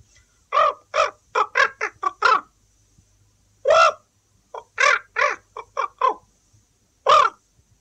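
A man imitating crow calls, a loud, close series of harsh caws delivered in bursts with short pauses between groups.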